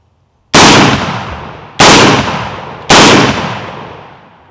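Three loud, sharp shots from a Kel-Tec PLR-16 pistol fitted with a new extractor and spring, spaced about a second apart, each with a long fading tail; no one talks.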